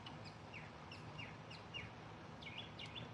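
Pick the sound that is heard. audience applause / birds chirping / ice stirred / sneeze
birds chirping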